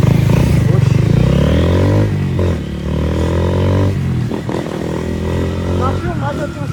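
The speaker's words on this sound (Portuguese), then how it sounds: "O som, a zoada que o cano de escape é." Honda Fan 160 motorcycle fitted with a Fortuna exhaust pipe, running close by: a loud, rough, continuous engine drone with a rattling exhaust note and slight pitch shifts, with people talking over it.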